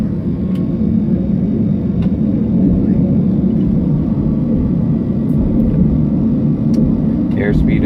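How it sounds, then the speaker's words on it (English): Airliner engines at takeoff thrust fill the cabin with a loud, steady, broadband roar and rumble that holds constant throughout, with faint clicks over the top. "Takeoff thrust is set."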